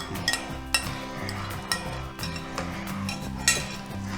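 A pot of iffa fish mixture being stirred with a utensil, metal clinking and scraping against the pot in a steady, close rhythm with occasional sharper knocks.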